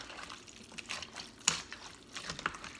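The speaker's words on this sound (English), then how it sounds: "I put a little bit more water in. I want a little bit more, I want a little bit more liquid." Water being poured into a pot of fasting soup in a home kitchen, a faint, close splashing and trickling with a couple of small clinks partway through, no voices.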